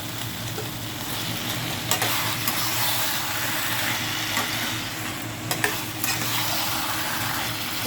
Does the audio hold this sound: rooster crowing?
no